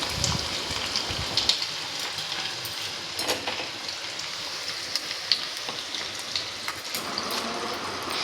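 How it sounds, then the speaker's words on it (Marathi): Garlic sizzles in hot oil for a phodni tempering while pickle is made in a Konkan home kitchen: a steady, dense crackle and hiss runs throughout, with small pops scattered on top and no talking. "तर आता इथे मम्मीने फोडणीसाठी लसूण घेतली आहे तेलामध्ये"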